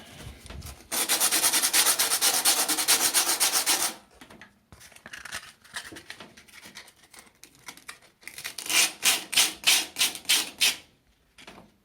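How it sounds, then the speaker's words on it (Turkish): Hand wet sanding of a rusty white washing machine with rapid back-and-forth strokes: a long steady scraping run, a quieter pause, then a final series of distinct rhythmic strokes. "Hafif ıslatıp zımparalama işlemime başlayacağım"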